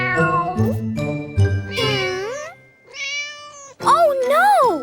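A cartoon mama cat meows in several drawn-out, sliding calls, close and clear, with light jingling chimes between them.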